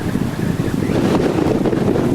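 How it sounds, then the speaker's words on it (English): Wind blows on a canoe trip down a river, gusting and rushing into the microphone with a constant roar that may carry lapping water beneath it. "Now the wind's coming up"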